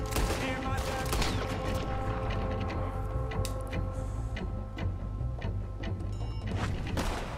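Rapid rifle gunfire in Red Dead Redemption 2, a sustained fusillade of sharp cracks and booms with occasional mechanical clanks, loud and busy from start to finish.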